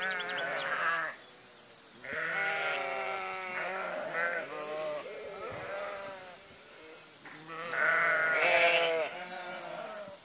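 Two groups of sheep meet and bleat repeatedly, overlapping calls rising and falling in bursts, moderately close, with flies buzzing faintly in the background.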